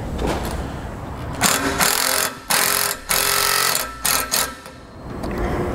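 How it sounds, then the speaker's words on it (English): A 5/16 socket ratchet tightening a clamp on a breakaway switch bracket during brake system installation on a 2016 Ford Taurus, giving close, buzzy ratcheting bursts in several short runs broken by brief pauses. "Now we'll take a 5/16 socket and we'll tighten our clamp down."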